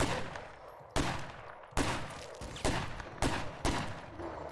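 Gunfire in the video game State of Decay 2: about seven sharp, loud shots fired at an uneven pace, each followed by a short decaying tail. No talk is heard.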